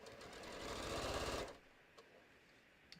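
Sewing machine quilting fabric for a bucket hat, a fast even stitching whir that builds for about a second and a half then stops, followed by faint small clicks.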